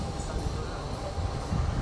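Inside a panoramic passenger train carriage on a dynamic test run, a steady low rumble and rolling rail noise fill the cabin at moderate level.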